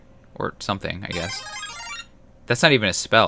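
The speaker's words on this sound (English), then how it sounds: "sorry about my phone ringtone." A mobile phone ringtone chimes briefly, a bright electronic tone lasting about a second that is nearly buried under someone talking while he plays the card game Magic: The Gathering Arena.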